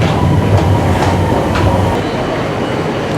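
Yellow M2 metro train pulling into a station, a loud, continuous rumble of wheels on rails with faint rhythmic clatter, close and filling the whole moment.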